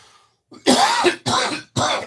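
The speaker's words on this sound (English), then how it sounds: "I'm probably going to cough a lot during this video" A person coughs three times in quick succession, harsh and close, after a brief throat-clearing start.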